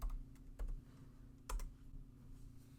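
Keys tap on a computer keyboard in a quiet room as measurements are entered, giving a few soft, scattered clicks over a low steady hum.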